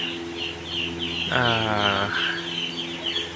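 Four-day-old broiler chicks cheep in a steady stream of high peeps, with one louder rising call standing out briefly from the flock.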